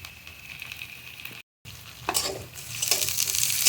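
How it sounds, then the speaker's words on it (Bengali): Green beans and carrots stir-fried in a pan for vegetable chowmein give a loud close sizzle with scraping stirs. The sound cuts out for a moment, then returns stronger and hissier. "বিনসটাও একটু নাড়াচাড়া করে ভেজে নেব"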